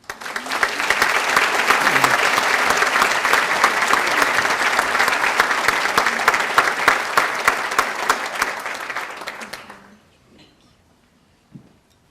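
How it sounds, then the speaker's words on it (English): A crowd applauds steadily for about ten seconds, a dense wash of clapping that fades out, followed by near silence and one faint knock. "Your applause, ladies and gentlemen, for Elizabeth Duran."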